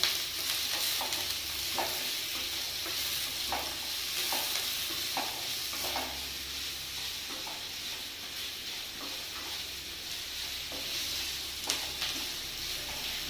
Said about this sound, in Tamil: அதில் குடமிளகா போட்டுடலாம். நல்லா வணக்கிட்டு உப்பு போட்டுக்கலாங்க.